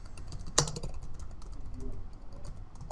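A computer keyboard rattles with a short run of fast, close keystrokes, one sharp louder tap early on, the rest a soft steady patter with no speech.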